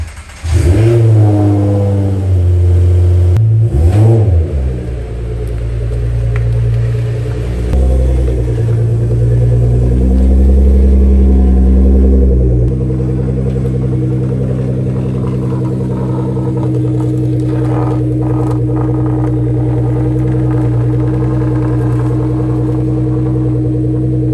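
A Subaru BRZ or Toyota GT86 being moved around a workshop: an engine starts and revs sharply a few times, then settles into a steady, loud idle rumble that continues alone.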